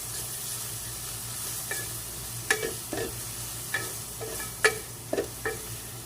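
Spice masala for an egg curry fries in a pan with a steady close sizzle, broken by repeated soft scrapes and taps of a spoon stirring every half second or so, with no voices.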